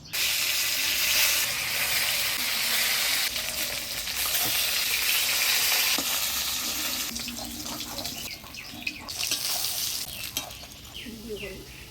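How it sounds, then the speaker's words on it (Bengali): Snakehead fish pieces rubbed with turmeric and salt fry in hot oil, giving a loud continuous sizzle and crackle that thins toward the end, with scattered clatter and bubbling nearby. "এবারে মাছগুলো ভেজে নিব"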